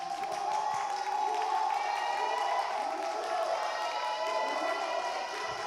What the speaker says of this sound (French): Alors, Eunice, qu'est-ce que ça fait d'entendre justement tous ces applaudissements pour toi ce soir?